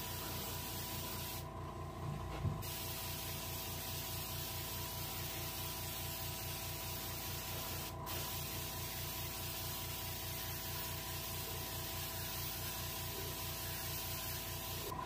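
Paint is sprayed onto a reproduction rainbow trout, a soft continuous hiss over a steady background hum, with a few short breaks in the spray; fairly faint and without talk.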